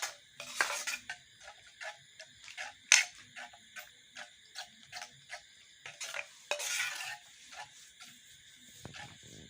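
Utensil stirring milk mixed with palm juice in a pot, heard as a steady series of light metallic clinks and scrapes repeating roughly every half second, close up, with no talking.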